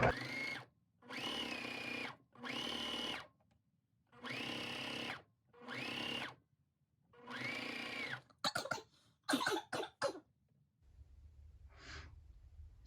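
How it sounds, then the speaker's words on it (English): A sewing machine stitching binding onto the front bodice of a garment, running in several short bursts of fast whirring separated by pauses, then a few quicker stops and starts near the end. "we're going to just push it in like normal, and we want to sew off a few inches of binding"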